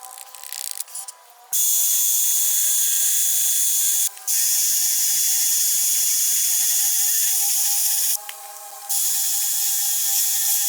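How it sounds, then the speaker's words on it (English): A high-pitched electric drill whines steadily while notching a Honda aftermarket distributor, with two brief pauses where it stops and restarts, fairly close and loud. "So I used the drill and the drill bit and notched it quite a bit"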